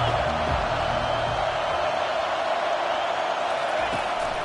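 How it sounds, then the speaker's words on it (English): A football stadium crowd roars on third down during an NCAA game, a loud, dense wall of sustained cheering that holds steady throughout, with faint thuds beneath. "Decibels rising as the crowd gets behind this defense on third down."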